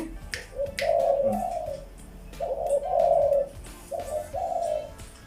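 A dove coos in repeated soft, rounded calls, three phrases with short pauses between, close by, with a few light clicks in the background.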